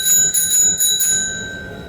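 A bell on a klunker bicycle rings close by in three quick metallic dings, each with a bright sustained tone that fades away at the end.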